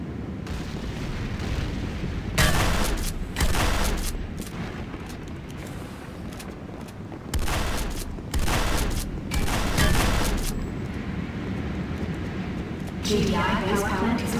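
Game-world base under attack in Command & Conquer, with loud bursts of explosions and rattling gunfire arriving in several dense clusters over a continuous rumbling battle background.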